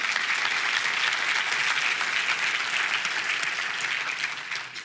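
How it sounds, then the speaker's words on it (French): A church congregation in Terrebonne applauding steadily, a dense sustained round of clapping from a full room that fades slightly toward the end. "Est-ce qu'on peut justement leur donner une bonne main d'applaudissement?"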